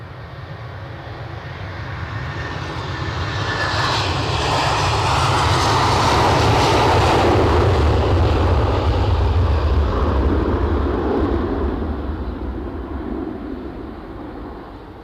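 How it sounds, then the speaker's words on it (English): A KLM airliner taxis fast at Edinburgh Airport, its engines a steady, broad roar that swells as the plane nears and passes close by, then eases slightly, with no talk over it. "Fast taxiing KLM."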